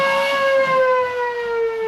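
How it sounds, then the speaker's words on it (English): Warning siren in Vukovar during the war, sounding to alert of incoming sniper and mortar fire; a loud, steady wailing tone slowly falling in pitch, heard alone. "this siren warned of incoming sniper and mortar fire"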